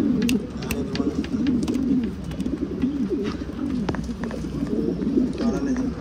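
Racing pigeons in a loft coo steadily and close up, a continuous low warbling chorus with faint bird chirps and some shuffling over it.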